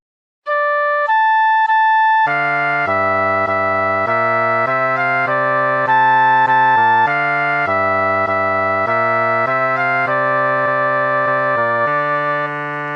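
Full contrapuntal passage with imitation by contrary motion: several sustained, synthetic-sounding melodic voices move together in steady note changes, loud and continuous for about twelve seconds after a brief opening of single notes.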